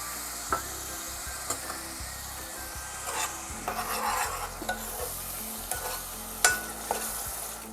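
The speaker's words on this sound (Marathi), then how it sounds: "टॅमॅटोचं पेस्ट आणि कांद्याचं पेस्ट शिजवून घेऊया" Onion paste and tomato paste fry in a pan for a shark fish curry, with a steady sizzle under repeated scraping strokes of a spoon stirring the thick mixture, close and moderately loud, no voices.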